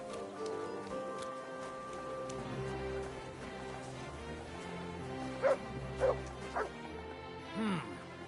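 A dog in the medieval game Kingdom Come Deliverance 2 gives several sharp barks and yips near the end, after a stretch of game ambience and music, with a voice briefly present.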